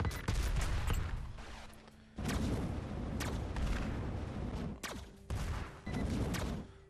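Flamethrower weapon firing in the sci-fi space shooter Xenoraid on Xbox One, loud bursts of rapid blasting and booming in several long stretches separated by brief drops.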